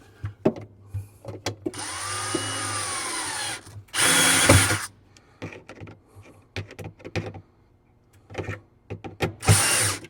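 A power drill whirs in two short bursts, separated by clicks and knocks of handling, driving a screw at close range while fitting a kegerator or outdoor refrigerator.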